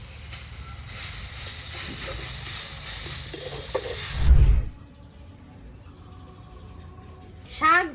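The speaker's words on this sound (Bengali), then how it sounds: "শাকটা এদিকে পোড়া পোড়া হয়ে ভাজা ভাজা হয়ে গেছে" Water spinach greens fry in a wok until charred and crisp, giving a steady, close sizzling hiss that cuts off abruptly, followed by quiet and a brief voice at the end.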